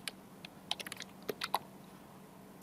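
Sparse, quiet keystrokes from a computer keyboard as copy and paste shortcuts are pressed during network setup work. The taps come in short irregular clusters over a low background hum.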